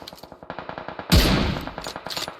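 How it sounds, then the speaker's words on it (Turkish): Automatic gunfire in the PUBG Mobile video game: a rapid, evenly spaced burst of shots, then a loud close blast, then a few more quick shots, with no talking. "Oha Gatka da bana sıkıyor"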